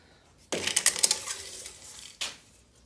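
A metal tape measure pulled out across a catio frame during construction, giving a burst of rattling, clicking blade noise for about a second and a half, then a second short metallic rasp, close and fairly loud with no talk.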